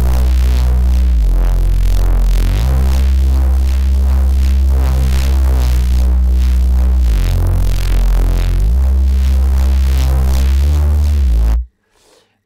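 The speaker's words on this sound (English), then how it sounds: "Today, I'd like to introduce you to my new audio effect presets for Bitwig and a new Serum Bass Preset." Serum bass preset run through Bitwig EQ filterbank and distortion presets, a loud, dense, gritty bass drone pulsing in slow sweeping waves for about twelve seconds before cutting off abruptly.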